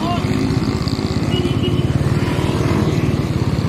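A motorcycle engine thrums steadily at close range with a fast, pulsing rhythm, as if heard while riding.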